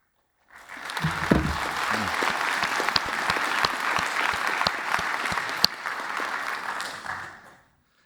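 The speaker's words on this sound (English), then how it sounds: "This was your applause, by the way, not mine." An audience at a Eurocrypt 2024 conference talk on LWE encryption applauds steadily for about seven seconds, even and moderately loud, then fades out.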